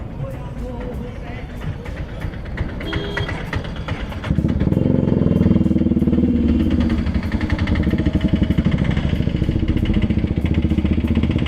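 A Bajaj Pulsar motorcycle rides along a street at speed, its engine droning steadily and growing louder and rougher partway through as it accelerates, with wind rush and a voice talking over it.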